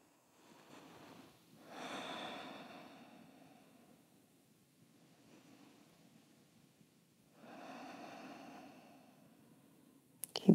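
Two slow, deep breaths during a yoga session, each a soft drawn-out rush of air, close and quiet in a calm room with silence between them.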